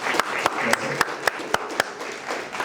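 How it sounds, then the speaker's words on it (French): Audience after a design masterclass clapping, a dense round of applause with a few sharp, louder nearby claps standing out at a regular pace, fading slightly toward the end. "Il faut l'applaudir."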